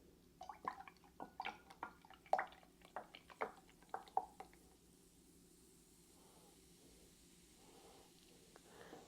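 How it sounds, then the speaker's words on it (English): Fermenting raw apple cider vinegar is stirred in a container, making a close, quiet series of small wet clicks, drips and sloshes over the first few seconds before the sound fades to near silence. "Let's see when I stir."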